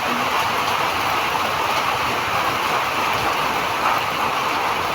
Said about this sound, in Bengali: মুষলধারে বৃষ্টি নেমে গেছে। আমি ঘরের জানালা দিয়ে করেছি ভিডিও